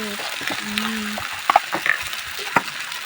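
Chili powder and turmeric are stirred into a dhaba-style paneer curry, with a steady sizzle and soft stirring scrapes and clinks close by.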